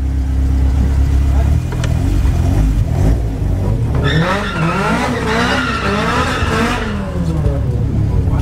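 A VW Golf GTI 16v with individual throttle bodies launches in a drag race, tyres squealing and the engine revving hard through rising pitch sweeps, loud and close amid other car noise.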